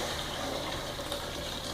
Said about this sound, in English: I will add hot water, that is boiled water.